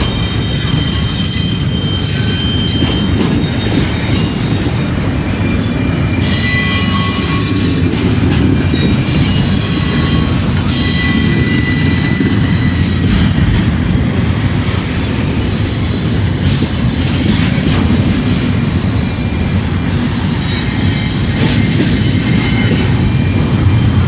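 Railroad cars roll through a curve with loud, sustained wheel squeals ringing above a constant rumble and clatter of wheels on track, close and continuous.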